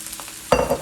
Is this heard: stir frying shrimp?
yes